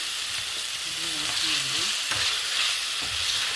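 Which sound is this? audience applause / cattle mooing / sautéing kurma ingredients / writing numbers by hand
sautéing kurma ingredients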